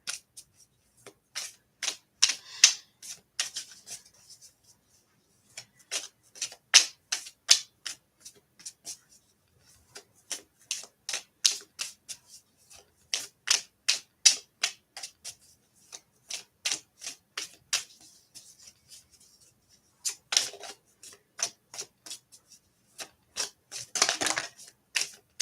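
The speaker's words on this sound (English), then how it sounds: "as you watch me shuffle, so that the card that's appropriate for you will pop out" Tarot cards are shuffled close by in repeated bursts of crisp riffling flicks, each run a quick rhythmic series of snaps separated by short pauses, with no speech.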